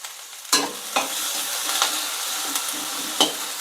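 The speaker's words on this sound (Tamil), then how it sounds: "வெண்டைக்காவையும் சேர்த்து வதக்கி விடலாம்" Okra and onions sautéing in a pan give a steady soft sizzle, broken by about five sharp scrapes and clinks as they are stirred, close and moderately loud, with no talking.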